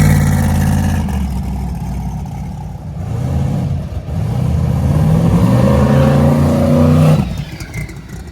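Drag race car engine running badly at drag week, its loud rough note dipping, stumbling and surging unevenly for several seconds before dropping off abruptly near the end.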